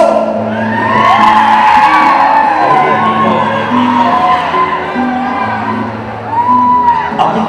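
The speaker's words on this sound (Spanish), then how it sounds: "Quiero que se escuche ese pinche grito borracho." A drunken shout rises among a loud crowd at a village dance with a band in Santa María Tepantlali Mixe, whooping and hollering over steady music, sustained and close.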